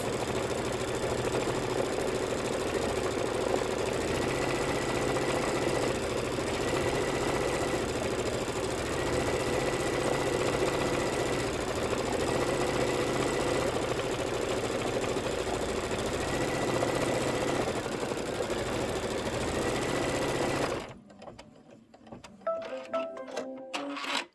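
An embroidery machine stitching the appliqué grass row of a Kimberbell quilt runs in a steady fast mechanical whir with rhythmic needle chatter for about twenty seconds, then stops, leaving quieter handling clicks.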